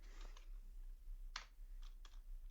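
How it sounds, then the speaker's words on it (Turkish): Computer keyboard keys pressed during coding, including the Enter key, giving a few sharp, quiet clicks spaced irregularly against a faint background hum. "Enter'a basıyorum"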